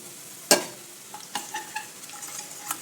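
Turmeric, chili powder and salt are stirred into hot oil on low heat for a dry ivy gourd bhaji: one sharp clank of the spoon against the pan, then a series of lighter scrapes and taps over a quiet sizzle.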